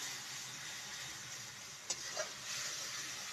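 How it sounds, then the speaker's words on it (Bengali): Spice paste for vegetarian Bengali ghugni sizzling in oil in a pan, with a steady broadband fry hiss throughout and a couple of brief scraping stir strokes partway through. "এটা নাড়তে হবে"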